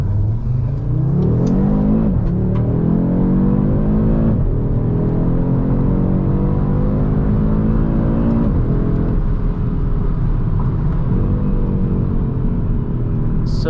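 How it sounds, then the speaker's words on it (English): A 2023 Audi RS 3 engine pulls strongly from inside the car while driving, revs climbing in long steady sweeps with brief dips at gear changes, a loud continuous rumble with no talking. "this car sounds lovely, lovely, lovely, lovely"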